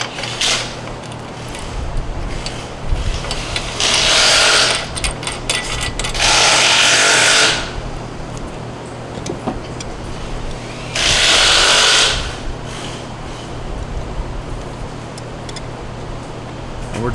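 Ratcheting and mechanical tool bursts while a nut is tightened on a CFMOTO UTV whip light mount, fastened with bolt, stud, washer and lock washer; several loud bursts of a few seconds each, separated by quieter handling noise.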